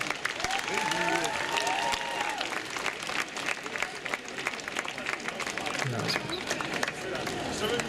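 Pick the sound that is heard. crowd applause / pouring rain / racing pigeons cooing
crowd applause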